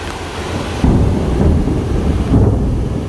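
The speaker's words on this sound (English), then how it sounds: "But that was quite a big thunderclap." A loud thunderclap rolls through a heavy rainstorm in the Montana mountains at Glacier National Park, a deep rumbling boom that swells twice over steady pouring rain, close and powerful, with no talk.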